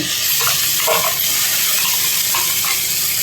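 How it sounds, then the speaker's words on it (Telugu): Coriander paste goes into a pot of simmering rasam, giving a steady wet bubbling and sizzling with a few soft splashes and stirring sounds, close and fairly loud, with no voices. "ఈ ధనియాల పేస్ట్ని కూడా ఇందులో వేసుకుందాం"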